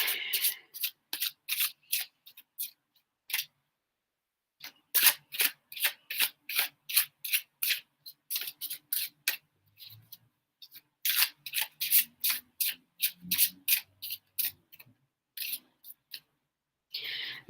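Tarot cards are shuffled close up in quick, crisp bursts of riffling and rubbing, with short pauses between rounds of shuffling.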